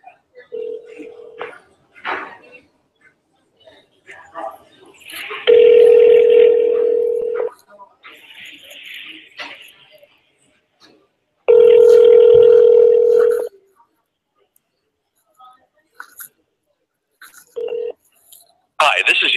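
A telephone call to a U.S. senator's office: dial tone, a run of touch-tone dialing beeps, then two long ringback tones separated by silence, clear and close with no talk.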